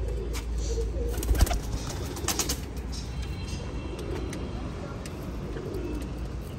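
Soft, low pigeon coos rising and falling in an outdoor setting, with faint background noise and occasional distant sounds.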